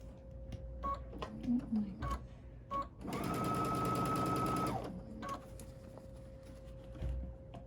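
A sewing machine stitches a face mask seam in a steady buzzing run of about two seconds, preceded and followed by short bursts and clicks with a faint tone underneath.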